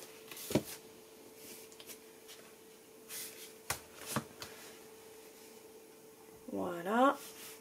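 Paper mini album pages pressed together by hand, giving a few sharp papery taps and rustles spread apart, then a short scraping rustle near the end, all faint and close in a quiet room.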